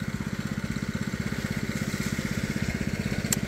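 A rice harvester runs in a paddy field, its large engine giving a steady, rapid chugging idle with a regular pulsing beat, fairly close and continuous throughout.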